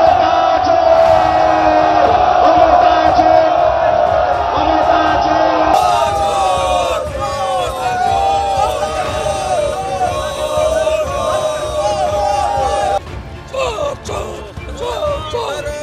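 A large crowd at a political rally in Jagaddal, Barrackpore, chants the slogan 'chor dhoro jail bhoro' in a loud, rhythmic call-and-response with cheering. The chanting is near and dense, dropping briefly toward the end.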